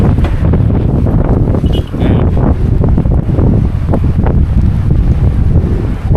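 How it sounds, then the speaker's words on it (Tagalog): Strong wind roars and buffets the microphone nonstop, a loud rumbling gusty blast with no pause. "Lakas ng hangin."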